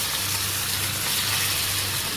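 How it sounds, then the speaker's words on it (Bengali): Shing stinging catfish sizzling as it fries in a pan of hot oil, a steady dense crackle and hiss with no pauses, heard close up and alone. "আর এখানে শিং মাছ ভাজি করতেছি"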